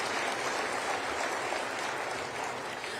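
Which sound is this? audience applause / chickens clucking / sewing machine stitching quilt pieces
audience applause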